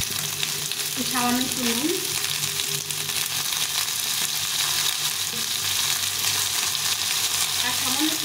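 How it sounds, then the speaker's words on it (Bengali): Pointed gourd (potol) frying in a pan with a little salt and turmeric, a steady loud sizzle running the whole time while someone talks briefly over it. "আর সামান্য একটু হলুদ দিয়ে এটাকে ভেজে নিতে হবে"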